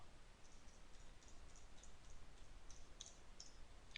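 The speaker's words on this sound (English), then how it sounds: "I'm going to hold down shift on my keyboard and I'm going to go across the top" Shift-held symbol keys tapped one after another across the top row of a computer keyboard, a quiet series of light, crisp clicks that grow slightly denser toward the end.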